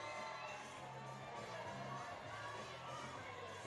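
A large crowd at the IFSC World Cup women's lead final in Briançon, 2022, cheers as a climber nears the top. The roar is dense and continuous, holding at a fairly steady level throughout.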